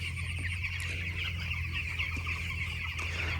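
Chickens cluck and murmur steadily in a crowded village poultry shed, with a constant low mechanical hum underneath and no talking.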